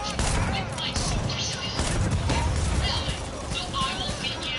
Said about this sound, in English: I'm shooting this dude in the face and he's still living